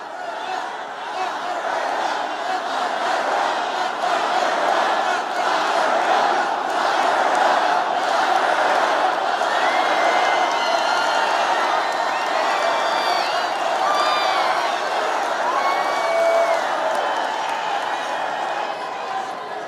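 A large political rally crowd at the Phoenix Convention Center roars continuously, a loud, dense wall of cheering, shouting and whoops that holds steady for the whole stretch with no break.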